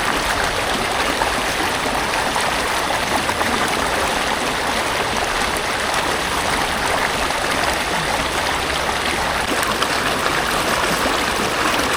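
A cold mountain stream in Pahalgam rushes past in a loud, steady wash of flowing water that fills the whole stretch without a break and with no voices.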